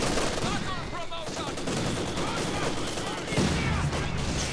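Sustained machine-gun fire from a Vickers gun in a multiplayer battle game with British forces, rapid rattling bursts mixed with distant explosions while players talk over the din.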